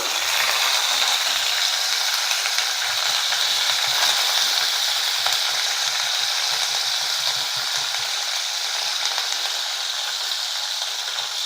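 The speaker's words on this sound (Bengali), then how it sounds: "এবারেতে এই তেলে আমি দিয়ে দিচ্ছি ফুলকপি" Cauliflower sizzles and fries in hot oil, with potatoes and beans for a winter dish with bhetki fish, a steady crackling hiss that runs evenly throughout, close and alone.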